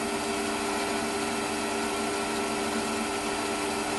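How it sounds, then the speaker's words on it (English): A lathe runs steadily at 600 RPM, driving a 4mm machine reamer, with a constant tonal motor hum and whine and no talking. "I'm doing 600 RPM. Probably a little bit. Yeah, it's only a 4mm reamer."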